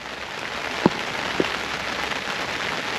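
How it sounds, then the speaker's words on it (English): Steady rain falls outdoors at a lake during carp fishing, a constant hiss of drops on surfaces with two brief louder taps; no one talks. "I can't hear you over the rain"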